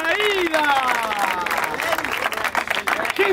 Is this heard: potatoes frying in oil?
no